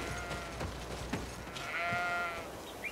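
Goats bleat in the video game Greedfall, a drawn-out nasal bleat over faint clicks and thumps of game activity, moderately quiet with no talking.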